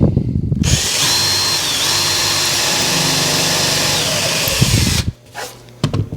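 A power drill drives 1.5 inch screws into a wooden bar top, one loud, sustained whirring run lasting about five seconds, close by, then stopping, with a short second burst near the end.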